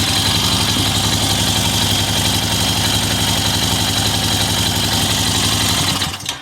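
A Honda Rancher 350 ATV engine runs steadily at a loud, close idle with a rhythmic low chug, then cuts off abruptly near the end.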